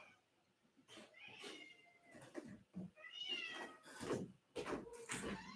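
A cat meowing indoors in repeated drawn-out, wavering cries with short gaps, fairly close and alone, with a few softer rustles between calls.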